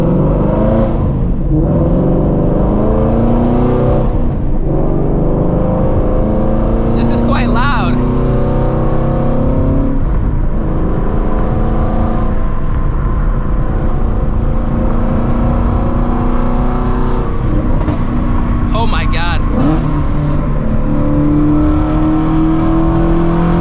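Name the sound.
Shelby GT350 engine with catless long tube headers driving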